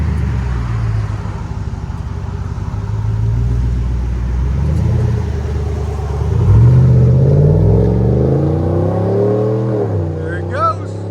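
A 2021 GMC Yukon Denali XL 6.2L V8 with a muffler delete idles with a throaty rumble, then revs hard, its pitch climbing and dipping before settling, while voices talk over it.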